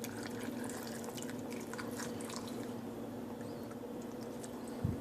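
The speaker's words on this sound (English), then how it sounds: "And then basically dilute it with water." Water poured into a container of freshly squeezed lemon juice to dilute it for a detox drink, a steady close liquid trickle with small splashy drips over a low background hum, no talking.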